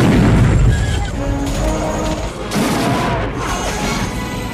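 Heavy explosions from a Russian bombardment in the film Rambo 3, a dense continuous roar of booms and crashing blasts, loud and rumbling throughout with a voice faintly mixed in.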